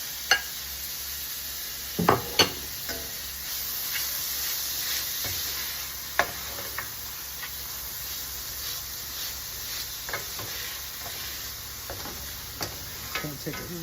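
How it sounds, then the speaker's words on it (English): Fresh tomatoes and onions sizzle softly in a pan while cooking down, with steady low frying hiss and occasional sharp clicks and taps of a stirring spoon against the pan, no talking. "So those are going in now too, so they cook down and get soft with the onions"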